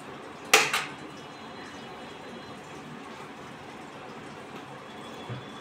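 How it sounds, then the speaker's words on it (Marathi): Dishes and sticky cookware being handled in a home kitchen after making sago fenugreek-style sabudana treats, with one sharp clatter of pots near the start, then a low steady room background. "आता एवढी सगळी भांड्यांचा खटारा पडला आहे."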